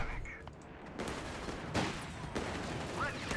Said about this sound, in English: MG34 teaming up